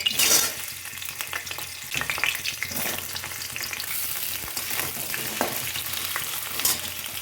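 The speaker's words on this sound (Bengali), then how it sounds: "এবার এই তেলে আলুটা ভেজে নেব" Potatoes fry in mustard oil in a kadai after cauliflower, a loud, dense crackling sizzle close by with occasional scrapes of a stirring utensil and no talking.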